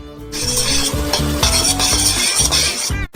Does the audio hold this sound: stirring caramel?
yes